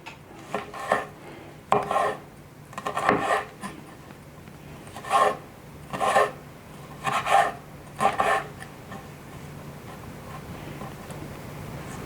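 A knife cubing a lime with the skin on against a cutting board, for a Thai pan-fried fish dish, in short bursts of rasping chops with quiet gaps between them, close and fairly soft.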